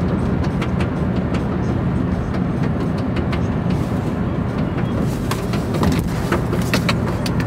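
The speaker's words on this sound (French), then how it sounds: "C'est la ceinture de ma veste qui claque dehors parce qu'elle est fermée dans la portière" Inside a moving car, road rumble fills the background while a jacket belt shut in the door flaps and slaps rapidly against the outside of the door in irregular bursts.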